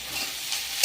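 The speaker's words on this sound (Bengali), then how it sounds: "দিয়ে পেঁয়াজ আর আলু একসঙ্গে ভেজে নেবো" Onions and potatoes fry together in a pan, a steady close hiss of sizzling oil with soft stirring scrapes, briefly brightening near the end.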